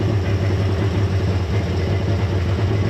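A Mercury 200HP XR6 Blackmax outboard engine runs during a timing adjustment, giving a loud, steady, rumbling drone with a dense low throb that holds throughout and has no talk over it.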